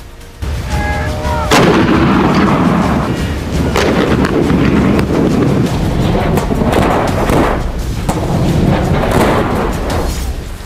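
K9 Vajra self-propelled howitzers fire in booming blasts, one after another, with rumbling echoes between shots, loud and forceful.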